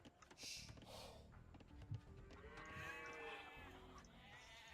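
Sheep bleat in a strategy video game, a wavering drawn-out bleat in the middle, with faint clicks and game effects around it and no voices.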